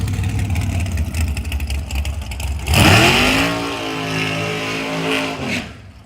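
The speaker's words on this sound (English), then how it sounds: "I like the way he did his burnout." A pro drag car's engine roars through a burnout at a raceway at night, rumbling loudly before climbing into a screaming rev that holds and then winds down, close by with no speech.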